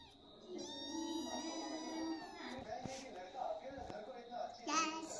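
A cat meows repeatedly in a home, its drawn-out cries running close and fairly loud for several seconds while a voice chatters alongside.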